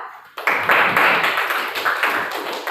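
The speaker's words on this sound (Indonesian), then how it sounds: "Beri aplaus untuk Rafa." Classroom applause for a student presenter, a group clapping together after a short quiet start, steady overlapping claps at moderate loudness until the end.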